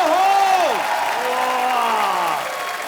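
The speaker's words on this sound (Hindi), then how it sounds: "जोरदार तालियां यामी, ऋतिक सर और उर्वशी के लिए, और मेरे लिए और भी जोरदार" A television comedy studio audience applauds under a loud, drawn-out voice, with the clapping continuing steadily before it tapers off at the end.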